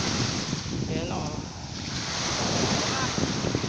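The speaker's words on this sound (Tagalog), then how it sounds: "ang lakas ng alon" Strong ocean surf breaking steadily on a beach in Pandan, Antique, a continuous loud wash of waves with heavy wind buffeting the microphone throughout.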